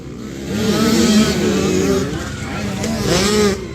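Small 85cc racing motorcycles scream past nearby at high revs, their engine pitch rising and falling as they pass, with a voice speaking over the noise.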